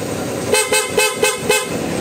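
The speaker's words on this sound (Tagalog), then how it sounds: "Ayan yung PIA horn natin" Five quick, loud horn blasts in a row from an aftermarket PIAA horn on a Honda motorcycle, deeper and fuller-toned, over a running engine.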